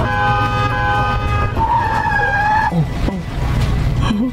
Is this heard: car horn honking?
yes